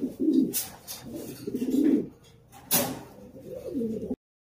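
Pigeons coo in low, throaty rolling bursts, close and fairly clear, with a couple of sharp knocks like a door or cage latch between the calls; no one speaks.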